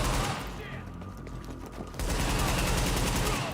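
Gunfire from the shooter video game Tom Clancy's The Division, a dense burst of hip-fired shots loud and close over game sound, continuing through most of the clip with a brief lull before resuming.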